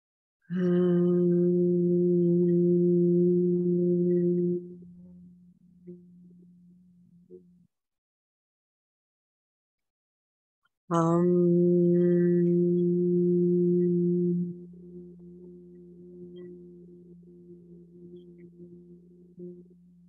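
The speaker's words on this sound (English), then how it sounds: "I'm going to use the hum chant just to start out with" Voices hum a sustained chant, two long steady tones with pauses between, loud and close, each fading into quieter trailing sound.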